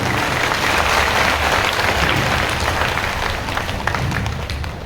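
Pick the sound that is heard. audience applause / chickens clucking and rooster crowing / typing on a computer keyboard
audience applause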